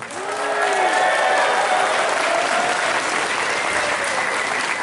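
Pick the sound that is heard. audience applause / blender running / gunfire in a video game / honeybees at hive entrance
audience applause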